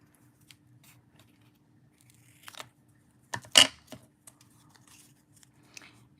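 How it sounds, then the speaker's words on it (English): Scissors cutting paper for a Christmas advent-calendar card craft, a few short crisp snips, one louder near the middle, separated by quiet pauses and close to the microphone. "So I'm going to take my scissors because that trimming didn't work well."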